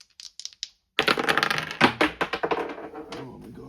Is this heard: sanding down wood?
no